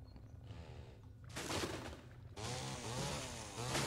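Chainsaw revving in a video game, with bursts of loud buzzing grinding that start and stop in two or three surges over a few seconds, alone without talk.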